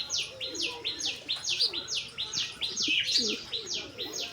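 Pigeons calling close by in a flock, a run of repeated chirping calls with lower cooing murmurs underneath, steady and fairly loud throughout without talk.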